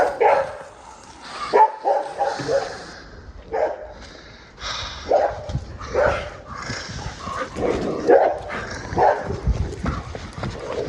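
Several dogs being walked bark and yip repeatedly in close, irregular bursts, mixed with footsteps, rustling and brief human voices.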